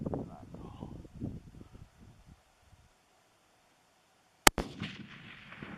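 A single loud, sharp rifle shot fired at a mule deer during a Wyoming hunt, cracking close and echoing briefly, preceded by hushed outdoor talk and a quiet pause.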